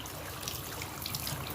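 Water sprays steadily onto a K&N air filter as it is rinsed, a constant hissing wash that stays close and even for a short stretch.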